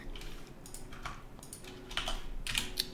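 Someone types on a computer keyboard nearby, a steady patter of keystrokes with a slightly denser flurry toward the end.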